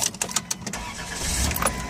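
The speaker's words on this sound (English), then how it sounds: "When I go to turn the van on" A 2003 Dodge Caravan mobility van with about 116k miles, its engine cranking in a few short bursts before catching and running, heard close from inside the vehicle.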